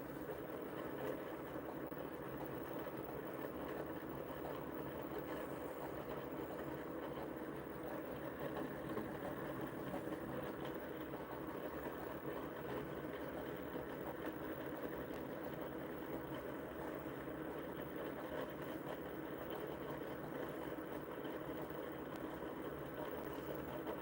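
A pulse motor runs at roughly 600 to 800 RPM, giving a faint, steady, even hum that carries on unchanged with no voices over it.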